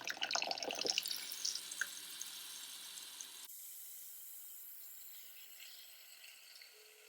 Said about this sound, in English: I fill it up to about 3/4 of the way with water